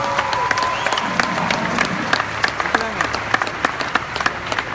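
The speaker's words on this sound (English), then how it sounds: "Can you give all of yourselves a one big applause?" A large arena audience at a OneCoin event at Wembley, London applauds with dense, continuous clapping and some cheering, loud and close throughout.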